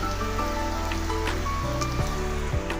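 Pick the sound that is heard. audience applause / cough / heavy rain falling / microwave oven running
heavy rain falling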